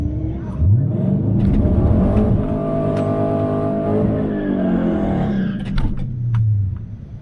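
A cammed Dodge R/T revs hard, close and loud, during a drag race against another car. Its engine note climbs through the gears in long surging pulls, and a brief squeal or whine follows near the end.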